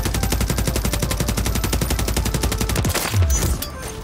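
An SVA 545 assault rifle in Warzone fires a long, rapid, evenly spaced automatic burst for about three seconds, ending in a heavier thump and a brief tail; no voices.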